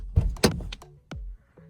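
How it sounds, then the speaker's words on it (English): Toyota Tacoma door being opened from inside: a couple of sharp close latch clicks and thunks followed by a softer mechanical release, fairly quiet, with no talking. "So if I open the door,"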